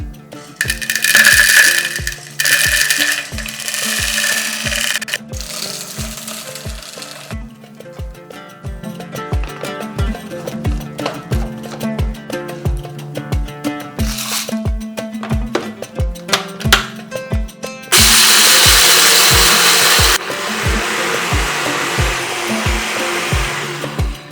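An electric grinder pulses dry-roasted spices in loud whirring bursts at the start and again near the end, separated by quieter stretches, with steady rhythmic background music throughout.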